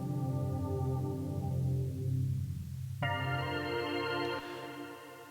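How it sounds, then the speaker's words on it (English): Sustained synth chords in an Ableton hip hop trap beat, run through an auto filter that cuts the high end, then open up to a brighter harmonic chord change around the three-second mark before dimming again. "I'm going to start by removing the high frequencies on our chords."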